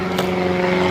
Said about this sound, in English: sorry for the airplane, can't hardly help that